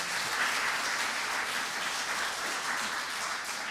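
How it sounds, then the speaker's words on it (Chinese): A church congregation applauds to welcome a new member, a dense, steady burst of many hands clapping together that continues evenly throughout. "咱家己拍手欢迎吼"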